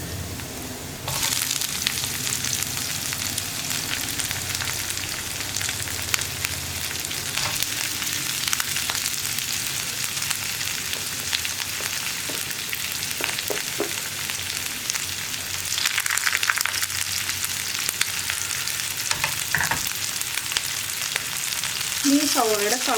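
Chopped onions frying in oil and being stirred for a tomato fry, a continuous close sizzle lasting over twenty seconds with occasional scrapes and clinks of stirring and no talking.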